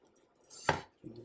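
A single knife chop through onion on a cutting board, one sharp close thud followed by a softer second contact, alone in a quiet kitchen.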